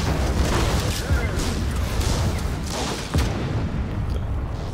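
A weapon fires in Just Cause 3, sending loud rumbling booms through a dense, continuous roar of explosions and debris, with sharper blasts standing out near the start and around the three-second mark.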